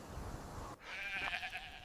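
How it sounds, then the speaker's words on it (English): A sheep bleats a single wavering, nasal call at moderate distance over a low outdoor rumble, lasting about a second. "so I was just vibing with the sheep, minding my own dusty business"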